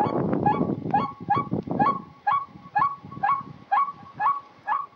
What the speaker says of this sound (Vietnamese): Tiếng kêu phát lên đều đặn, không phải từ bất kỳ chú chim nào mà là từ một chiếc loa đặt giữa đồng.